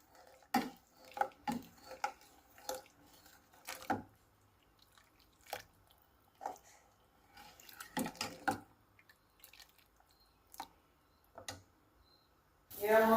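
A spoon stirs mushroom biryani with yogurt in a cooking pot, giving sparse clicks and scrapes against the metal separated by quiet pauses.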